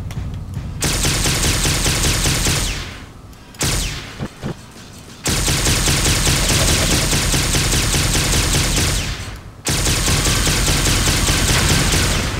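Rapid automatic gunfire from the video game Shattered Steel rattles in long, loud bursts with a few brief pauses between them, and no voices are heard.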